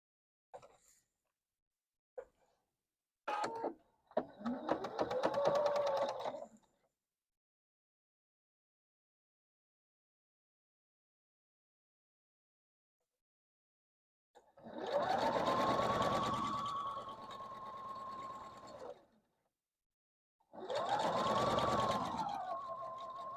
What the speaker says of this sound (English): Again, I'm going to sew this.